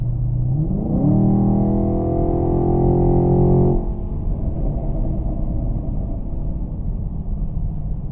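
A 2020 Chevy Camaro SS Hendrick Motorsports Edition with upgraded air intake and exhaust revs up hard, holds a loud roaring pitch for a few seconds, then drops to a deep, steady rumbling idle.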